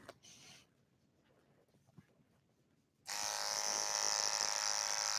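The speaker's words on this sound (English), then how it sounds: "Anything over a 2, I always do clipper over comb" Electric hair clippers start after a quiet pause and run with a steady, loud buzz while cutting hair using the clipper-over-comb technique on a live model.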